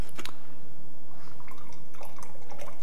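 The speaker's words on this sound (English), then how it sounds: "I'm gonna add in a bit of rice wine vinegar." Rice wine vinegar pours into a vinaigrette of Dijon mustard, olive oil and lemon, giving soft liquid trickles and a few small drips and splashes, close and quiet with no talking.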